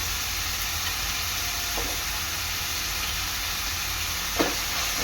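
Ginger garlic paste sizzles steadily in a hot pan while cooking chicken sukka, a Koli-style dry chicken dish; a constant broadband frying hiss with a couple of brief stirring scrapes, no voices.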